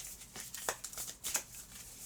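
Playing cards being shuffled for a space-themed cooperative board game, a few soft riffling bursts of papery rustle heard close up and quietly, with no voices.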